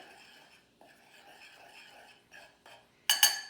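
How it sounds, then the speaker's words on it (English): Flour and cornstarch are stirred in a bowl, giving a soft, dry scraping rasp in uneven strokes with brief pauses, close and quiet, ending in a couple of louder sharp scrapes. "we're going to give this a bit of a stir"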